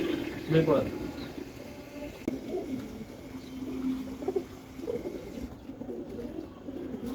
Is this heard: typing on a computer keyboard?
no